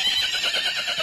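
A horse pulling a large carriage lets out a quick neigh, a fluttering whinny heard close and fairly loud, alone without talk, set in a children's educational program.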